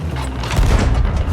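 Ship cannon fire in the Sea of Thieves video game, a deep booming blast with a heavy low rumble, loud and close in a single short burst.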